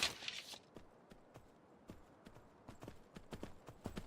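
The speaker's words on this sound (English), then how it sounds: "Oh, that's a horse." Horse hooves clip-clop in the survival game Myth of Empires, a quick string of crisp, light hoofbeats at low volume over a quiet background, after a brief opening swell of noise.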